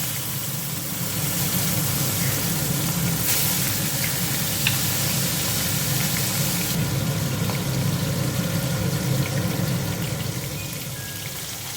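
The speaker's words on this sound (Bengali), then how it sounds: "দেখো তেলাপিয়া মাছ ভাজছি।" Tilapia fish fries in a pan, giving a loud, steady, close hiss of hot oil. The hiss holds evenly for about ten seconds before easing slightly at the end.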